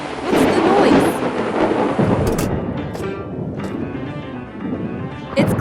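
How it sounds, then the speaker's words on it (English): Thunder rolls loudly over a rainy, windy backdrop in an animated truck-and-excavator scene at a dock, with a big rumble early on, softer crackles later and a fresh crack at the end. "Thunder and lightning ahead!"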